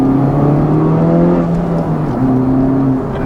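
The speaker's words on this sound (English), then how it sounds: "This car has an aftermarket Borla exhaust." A 2019 Honda Civic Type R with an aftermarket Borla exhaust idles and burbles with a deep, throaty exhaust note, steady and fairly loud, with slight shifts in pitch.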